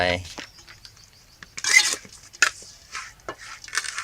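Raw shrimp salad made Khmer style is tossed in a bowl with a utensil, giving irregular clinks and scraping taps against the dish, close up and moderately loud, with no talking.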